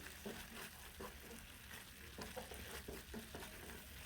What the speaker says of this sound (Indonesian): Ini tinggal diaduk-aduk sebentar lagi aja sampai saus pizzanya ini nanti benar-benar